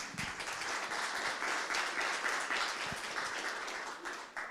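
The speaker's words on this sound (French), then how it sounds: "si on peut applaudir" An audience at a French conference gives soft, continuous applause, distant and fairly quiet, with a few nearer claps standing out, lasting about four seconds.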